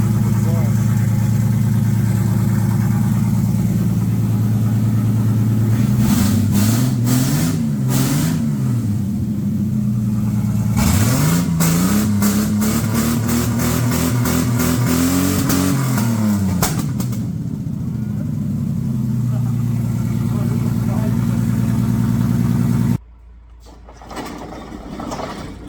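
An AU Falcon ute that has been left for scrap idles with a low steady rumble, then revs in repeated swells before settling back, close and loud; the engine cuts off near the end.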